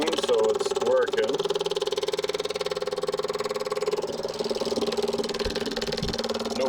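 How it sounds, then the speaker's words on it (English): A mechanical pump runs on a Fargo roll-off truck, a steady mid-pitched droning hum with a rapid pulsing beat, continuous and moderately close, with a couple of brief low thumps near the end. "Pump's changing its tune, so it's working."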